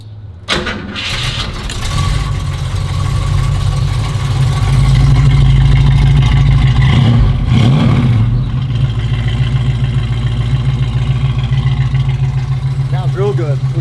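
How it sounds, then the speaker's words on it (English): A 1970 Fastback's engine cranks and catches, then runs with a loud, steady idle and rising revs, close by and filling the whole stretch. "Sounds real good. Listen to that engine."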